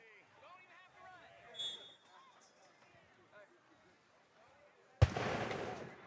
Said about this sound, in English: The cannon booms.